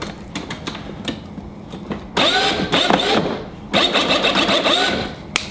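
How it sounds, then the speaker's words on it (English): A high-speed 40,000 RPM motor upgraded to 18 volts on a Power Wheels ride-on car whirs up in two bursts as it spins a wheel, each a rising electric whine lasting over a second, close by, preceded by small clicks. "We're gonna hit the button, see which way the wheel spins."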